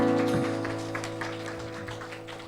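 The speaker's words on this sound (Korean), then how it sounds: "우리 서로의 축복하면서 감사의 박수를 주님께 돌립시다" A church youth congregation at a Sunday worship service claps together in thanks, a dense steady patter of many hands alongside faint background sound, gradually fading.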